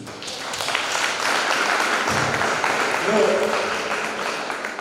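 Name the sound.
applause at festival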